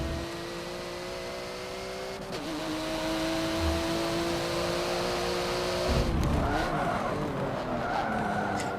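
A race car in Forza goes off the track at Silverstone near Maggots after clipping a curb, its engine droning steadily before tyres skid and scrub loudly through the final seconds.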